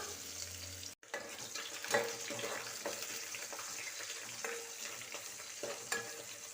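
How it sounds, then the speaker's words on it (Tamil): Ground onions sautéing in a pot for chicken dum biryani, a quiet steady frying hiss with irregular soft stirring scrapes and one brief clunk near the start. "வெங்காயத்தை நல்லா வதக்கிக்கலாம்"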